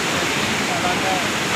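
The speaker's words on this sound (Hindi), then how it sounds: "ये जो दरिया चल रहा है, ये कहाँ से आ रहा है पानी?" The Kunhar River at Balakot rushes past as a loud, steady, broadband roar of flowing water, continuous and close with no break.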